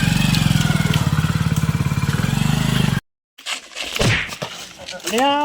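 A motorbike engine idles close by with a steady rapid putter for about three seconds, then cuts off abruptly, followed by clattering handling noises and brief voices.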